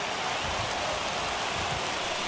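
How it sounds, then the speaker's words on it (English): Heavy rain pours steadily onto the field in the baseball video game MLB The Show, a dense, even hiss with no gaps, loud and close throughout. "Really starting to pour now, and the forecast is not showing any signs of a break in the weather."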